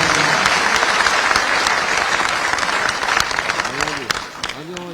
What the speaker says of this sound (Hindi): सभी का ताली बजा करके आप स्वागत करते हैं।